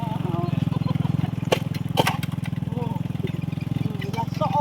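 A motorcycle engine runs steadily with a low, throbbing rumble, and people talk over it nearby.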